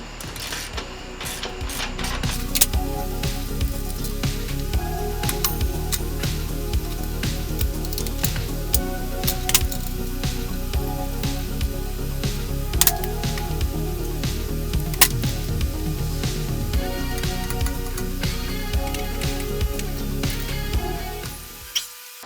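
Welding on chopper motorcycle struts, a steady crackling, sizzling arc that runs nearly continuously for about twenty seconds with occasional sharper pops, close and fairly loud.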